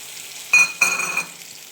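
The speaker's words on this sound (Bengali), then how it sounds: "এইভাবে নাড়তে থাকবো যতক্ষণ না চিনিটা গলে যায় পুরোপুরি" Sugar stirs into fried star fruit in a pan, with a quiet sizzle that gives two short bursts of frying and scraping, then settles back to a low simmer.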